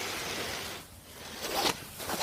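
The elastic hood drawcord of a Canada Goose jacket is pulled tight, giving a couple of soft, quick raspy zips of cord sliding through the toggle, close and quiet with no talk.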